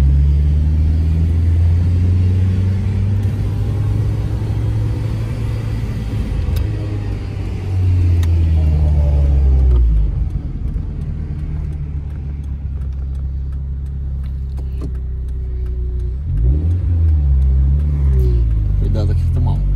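A 1995 Dodge Neon Sport Coupé engine revs up through the gears, its strong low drone climbing and dropping with each shift, easing off midway before another rising pull, with someone talking over it.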